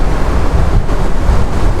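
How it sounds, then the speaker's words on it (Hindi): A cold river rushes past in Parvati Valley near Kasol, a dense, steady roar of flowing water mixed with wind buffeting the microphone, loud and close with no voices. "मैं एकदम नदी के पास में हूँ, बहुत ठंडा पानी है"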